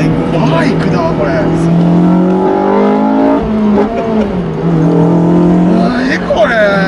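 A Honda Civic Type R FD2 with an aftermarket air intake and replaced catalytic converter revs hard and close, its pitch climbing and falling in repeated sweeps while people exclaim and talk over it.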